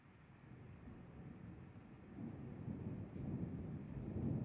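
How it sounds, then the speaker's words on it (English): Low, rolling thunder rumbles steadily in the distance, faint and continuous for several seconds and swelling slightly louder toward the end, with no talking over it. "Wow, do you guys hear that thunder?"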